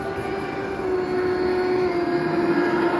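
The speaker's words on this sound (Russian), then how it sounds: "Вон поезд из туннеля выезжает." A steady mechanical rumble of a model train running continuously out of a tunnel, with a faint hum and light rattling throughout, no voices.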